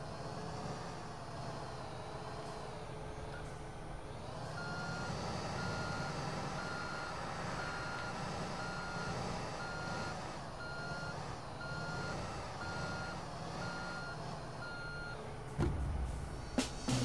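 A truck in a video game beeps while reversing to unload sand, soil and gravel below a silo, a steady evenly spaced warning tone over a constant engine drone, ending with a few louder clunks.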